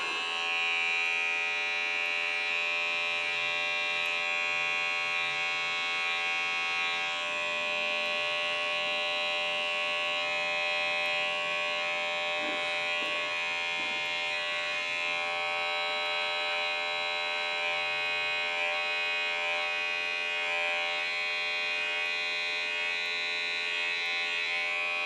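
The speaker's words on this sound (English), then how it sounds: "I'm going to be using my Andis TR liners, the British version" An Andis TR liner hair trimmer with a detachable shaver head, British version, buzzes steadily and loudly throughout while cutting a skin fade high top at a barber's, its tone shifting only slightly as it works.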